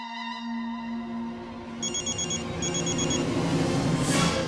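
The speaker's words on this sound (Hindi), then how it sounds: "तुमने मुझे फोन क्यों किया?" A telephone rings in a scene from a Hindi TV serial: a short burst of repeated electronic trills rises over a steady musical background, near and fairly clear.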